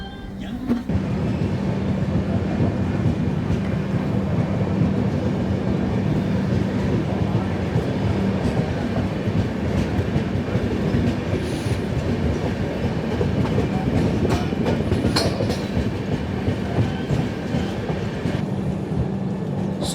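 The Tamil Nadu Express passenger train rumbles along the rails in a dense, continuous roar with faint clickety-clack of wheels, heard from inside the moving train, with occasional brief metallic squeals.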